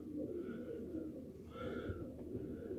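Ornamental pigeons cooing softly at a fancier's market in Lipno, low rolling coos in a couple of faint bursts against a murmur of background noise.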